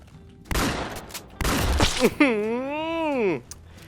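Shotgun blasts in the Roblox Vietnam War game Unit 1968, two loud close bursts followed by a rising and falling voice, with talk nearby.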